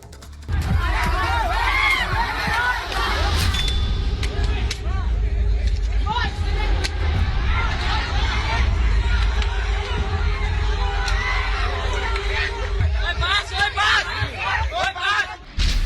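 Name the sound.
noise of a mob crowd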